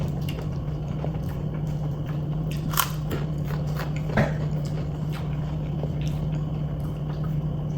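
Crunchy rice cakes being bitten and chewed close up, with a few sharp crackling bites standing out over a steady low background hum.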